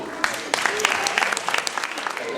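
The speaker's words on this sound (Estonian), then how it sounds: "Teeme neile veel ühe aplausi." An audience at a children's village anniversary event claps, a dense close applause with sharp individual claps and a voice speaking over it.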